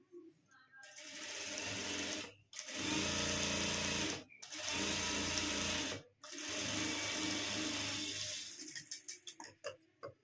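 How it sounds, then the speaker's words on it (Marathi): A sewing machine runs close by in three long continuous bursts, stitching a hem on a net puff sleeve. Short pauses fall between the bursts, and a few slower ticking stitches follow at the end. "तर आता इथून टीप मारायची आपल्याला"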